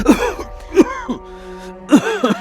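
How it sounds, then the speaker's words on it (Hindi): A person coughing and clearing their throat indoors, three or four loud, rough hacks separated by pauses, close to the listener, with no talk. "आजकल तुम कुछ ज्यादा ही खांस रहे हो।"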